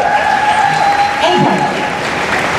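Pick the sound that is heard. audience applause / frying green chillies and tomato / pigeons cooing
audience applause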